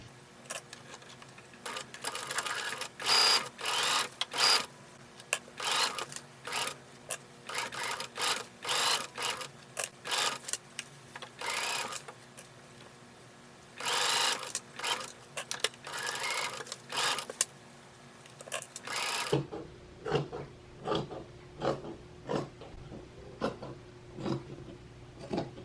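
A sewing machine stitching a dress, running in fast rhythmic bursts of rapid clatter separated by short pauses, close and moderately loud, then switching to sharper, evenly spaced ticks toward the end; no talking.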